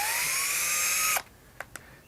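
A power drill drives a cone splitter into wood with a loud, steady high whine that cuts off abruptly, followed by two brief faint clicks in near silence.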